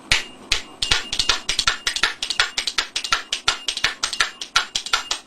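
A pair of spoons clacks in a quick, steady gallop rhythm, each beat a sharp metallic click as the top spoon glances off the bottom one, loud and close with no voices.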